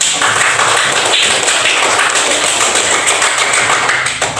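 A class of students clapping hands together in a classroom, a steady dense patter of many hands sustained at even loudness throughout.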